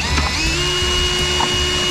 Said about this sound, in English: Just attracted by the drill noise, you know?